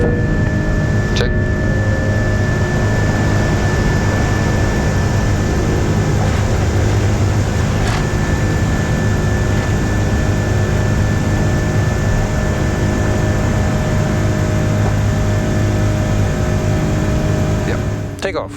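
Air Greenland Airbus A330 jet engines roaring loudly and steadily during the takeoff climb out of Copenhagen, a dense sustained rumble heard from the cockpit, with a couple of brief clicks early on and no speech.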